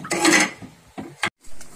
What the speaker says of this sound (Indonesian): ini sambil kita aduk-aduk, ini dipanaskan saja sampai 85 derajat sampai berasap ya